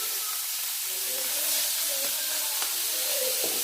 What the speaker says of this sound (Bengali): এই মেল্টেড বাটারটাতে আমরা দিয়ে দেবো চিংড়িগুলোকে